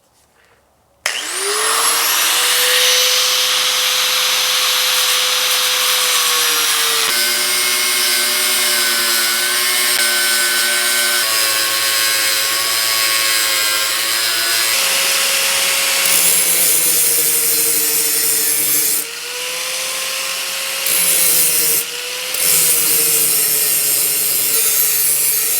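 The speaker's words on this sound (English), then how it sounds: "So I'm going to just use the cutoff wheel." A cutoff wheel slices through a sheet metal transmission tunnel panel for a GTO restomod, a loud, continuous high whine and grinding screech that shifts in pitch as the cut goes on, with short dips in between.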